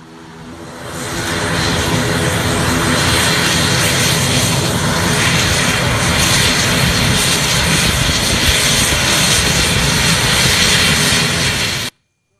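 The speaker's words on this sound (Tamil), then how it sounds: "காலை 8:55 சென்னையிலிருந்து அலைன்ஸ் ஏர் விமானம் யாழ்ப்பாணம் புறப்பட்டு சென்றது." An Alliance Air airliner departing Chennai for Jaffna roars loudly and steadily with engine noise that swells in over the first seconds, holds at full power, then cuts off abruptly.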